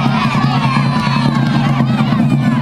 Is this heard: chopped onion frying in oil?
no